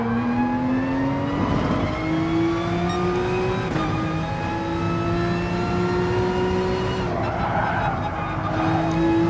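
A Porsche race car engine in Gran Turismo Sport drones steadily under load, its pitch climbing through gears with brief shifts, loud and close with other cars faintly around it.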